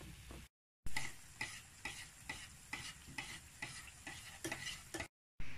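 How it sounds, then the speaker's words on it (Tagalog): Veggie balls frying in a hot pan, a steady crackling sizzle with regular stirring or scraping strokes, broken by two brief silent gaps, with no talking. "iprito na po natin siya sa mainit na kawali"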